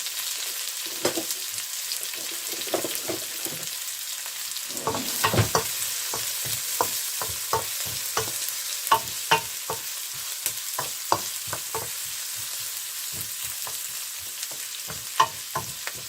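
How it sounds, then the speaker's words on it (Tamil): Onions sauté in a pan for savory upma, a steady close frying hiss with a regular run of scraping stir strokes and occasional sharper taps of the spoon. "வெங்காயம் முழுவதாக போட்டு வதக்க போகிறேன்"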